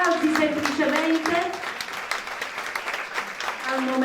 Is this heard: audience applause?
yes